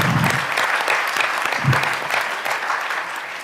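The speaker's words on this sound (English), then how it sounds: "Can we get another round of applause for our athletes?" A board of education meeting audience applauds school athletes with dense, steady clapping and a few louder claps, the applause holding strong and easing slightly toward the end.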